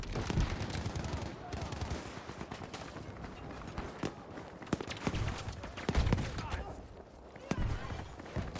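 Rapid machine gun fire rattles through a Battlefield 5 match, dense bursts of shots mixed with other battle noise while players talk over it.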